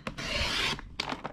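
Material for a storage box is cut with a short, close rasping stroke lasting about half a second, followed by a few quick scraping bursts.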